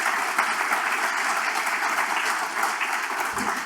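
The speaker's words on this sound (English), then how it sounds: "So what about a round of applause for all those watching us online?" An audience at the Big Irish Campfire gives steady, full applause that stays constant and fairly close for the whole stretch.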